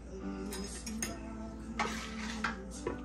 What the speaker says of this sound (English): make sure I stir up my noodles right there